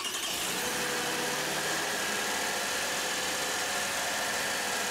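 A car engine runs at a steady idle during a battery voltage test, a continuous even hum with a faint mechanical whine, loud and close with no talking.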